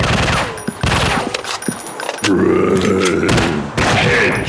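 A zombie shooting video game with an industrial war setting plays rapid, loud gunfire: dense bursts of shots and impacts with booms and thuds, mixed with game voice effects and grunts.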